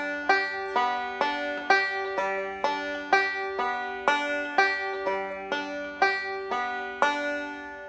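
Banjo picking a Scruggs-style alternating roll that switches between 5-3-1 and 5-2-1 patterns, played alone as steady, evenly spaced plucked notes with bright ringing harmonics at a moderate tempo.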